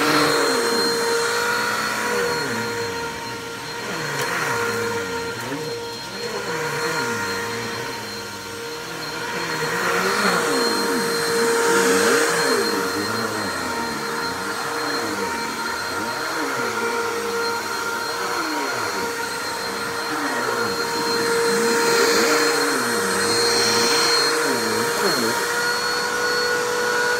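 A Bissell Easy Vac vacuum cleaner runs continuously, a loud, close, steady whine and roar that swells and dips as it moves across the floor, with no talking over it.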